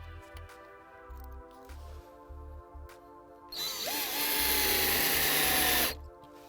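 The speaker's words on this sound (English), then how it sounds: "I start to screw them down just the same using the stainless steel screws" Stainless steel screws are driven into composite decking planks by a power drill in one loud, sustained whine of about two seconds, with light clicks and knocks before it.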